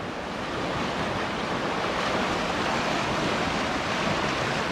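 Water of Trap Creek in Kananaskis rushes steadily over its bed, a constant broadband wash with a little wind, heard up close with no voices.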